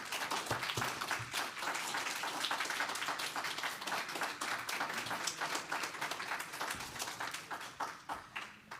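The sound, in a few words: audience applause for poets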